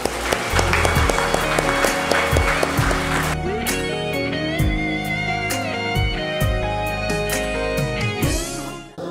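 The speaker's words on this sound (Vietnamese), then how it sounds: "Một tràng pháo tay với quý vị để chào đón vị đại biểu đại diện cho gia đình nhà trai" Applause from guests at a Vietnamese wedding ceremony welcoming the groom's family representative, dense clapping in the first few seconds and then continuing beneath steady, loud music.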